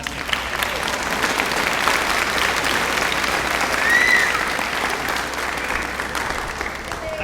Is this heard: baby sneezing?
no